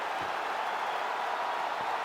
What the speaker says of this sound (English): So the crowd voicing its appreciation.